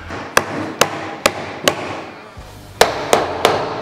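Sharp hammer taps on wooden blocks being knocked into place for homemade DIY clamps, about eight distinct close blows in an irregular rhythm with short gaps, no talking.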